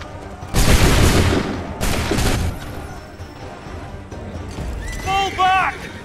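Assassin's Creed 3 musket volleys crack out twice in quick succession, loud broad blasts, followed by a horse whinny and shouting soldiers.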